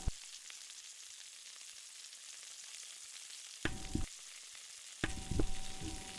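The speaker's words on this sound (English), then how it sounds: "Sorry for the sizzling." Food fries in a pan with a steady, bright sizzle that runs throughout, fairly close, and swells louder in two short bursts toward the end as something is stirred or added; no voices.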